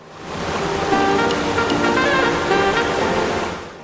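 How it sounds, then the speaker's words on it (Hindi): A waterfall at the Pandava Caves in Dang roars as a dense, steady rush of falling water that swells in, holds loud and even, then fades away. "एक खूबसूरत झरने का वाटरफॉल"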